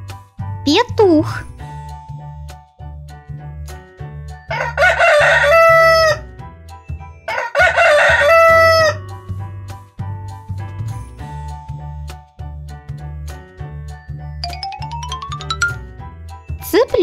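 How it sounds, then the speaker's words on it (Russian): Cartoon rooster crowing loudly twice in long cock-a-doodle-doo calls, set within cheerful children's music with jingling accents and short sliding whistles. "Петух."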